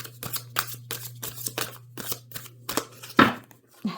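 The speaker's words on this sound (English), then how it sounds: "I'm trying to get a good shuffle here" Repeated crisp riffling bursts of tarot cards being shuffled, about ten quick flurries in a steady rhythm, close by, with a low steady hum underneath.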